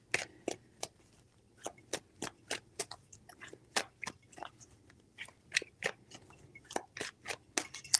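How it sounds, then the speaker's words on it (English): Tarot cards are shuffled close by in rapid irregular bursts of crisp riffling snaps and flicks, alone with no talk. "Four shuffles."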